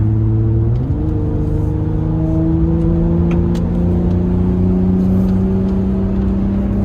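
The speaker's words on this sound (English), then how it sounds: "This truck has no issues with getting up on the highway." A 2021 Ford Raptor pickup's engine climbs in pitch after a gear shift while accelerating onto a highway, then holds a steady, rising hum as it gains speed.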